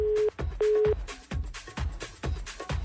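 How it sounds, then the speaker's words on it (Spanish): A telephone busy tone sounds after a call on a Costa Rican radio-style parody is cut off, two short steady beeps at the start followed by repeated thumping pulses and noisy bursts. "se cortó la comunicación con el Gordo Regalón"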